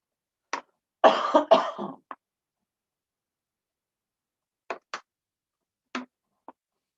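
A short burst of coughing, then a few isolated, faint coughs or throat clears spaced apart in an otherwise quiet room.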